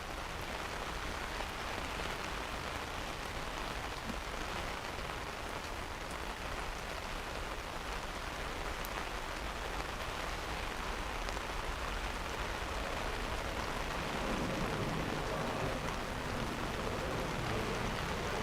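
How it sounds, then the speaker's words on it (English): Steady rain falls throughout at an airfield runway on a murky day, a dense, even hiss of drops pattering on surfaces with no breaks, moderately loud and close, with no one talking over it. "That's not focus, that's just rain"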